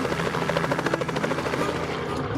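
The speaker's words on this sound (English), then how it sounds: "Here comes the chopper." A helicopter arrives for a northern moose hunt trip, its rotor chop loud, close and rhythmic throughout, drowning everything else out with no voices.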